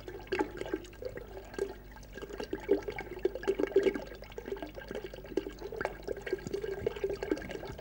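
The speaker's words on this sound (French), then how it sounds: "j'ajoute un 7e litre d'eau" Water pours steadily into a large pot-au-feu stockpot holding two beef pieces, a continuous close splashing and gurgling stream lasting several seconds.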